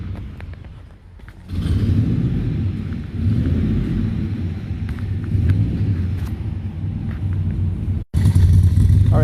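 A 1963 Corvette engine fires up for its first start, settling into a loud, close, rumbling idle that swells and dips before a brief cutout and a renewed roar.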